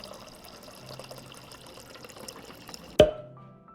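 Water running from a kitchen tap to fill a drinking glass, a continuous close splashing stream that stops abruptly with a sharp clunk as the faucet shuts off.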